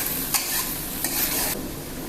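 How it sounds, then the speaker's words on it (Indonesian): Milk and boiled potato mixture being stirred in a pan on the stove, a steady close scraping swish with a low sizzle underneath, a few spoon taps on the pan, no talking. "Aduk sampai dia merata"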